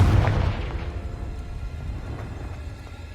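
A Confringo spell explosion in Hogwarts Legacy opens with a heavy boom that fades into a long, rumbling tail, close and loud, with no voices.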